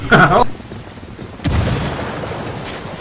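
A grenade explodes in the video game Ghost Recon Wildlands, giving a sudden loud boom followed by a rumbling tail, after a brief burst of voice and over steady background game noise.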